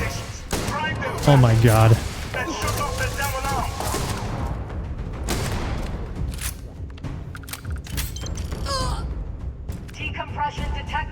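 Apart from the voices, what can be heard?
spaceship fleet gunfire in the video game Starfield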